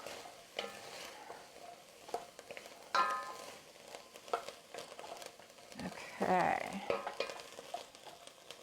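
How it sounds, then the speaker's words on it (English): A pot of minestrone soup is stirred with a utensil, soft scraping and light clinks over a faint bubbling sizzle, while a voice briefly speaks one word. "Give it a stir."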